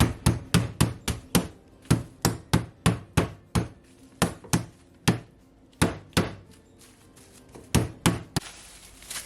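A meat mallet pounds chicken breast through cling film for jerk chicken, landing as a steady run of about twenty sharp, loud thuds in quick succession, close up and alone.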